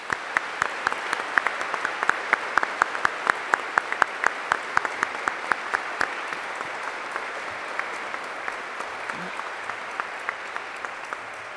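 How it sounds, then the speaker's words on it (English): Steady audience applause at a university ROTC commissioning ceremony, a long sustained round of clapping from a large seated crowd that carries on evenly and slowly thins toward the end. "please join me in a round of applause."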